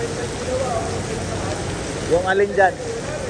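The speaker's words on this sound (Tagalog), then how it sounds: "Talagang buhos na buhos ang ulan." Heavy rain pours down in a flooded area by the Marikina River, a dense, constant hiss of water falling close by, with a few people talking briefly over it.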